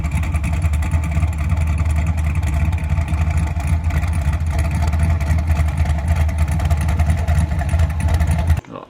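BMW hot rod engine idling steadily and loudly close by, a continuous deep rumble with a strong low throb, running alone without talk until it cuts off abruptly at the end.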